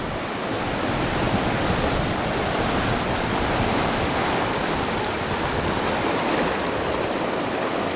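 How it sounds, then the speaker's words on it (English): Waterfall and stream rushing through Moss Cave in Bryce Canyon, a loud, steady, broadband roar of falling and flowing water that holds unchanged for the whole stretch, with no voices. "This stream is really coming down well."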